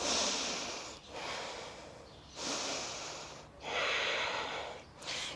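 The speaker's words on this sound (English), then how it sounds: "Deep breathing." Someone holding a yoga pose breathes deeply through the nose in long, loud, airy inhales and exhales, about four breaths close to the microphone, with no talking.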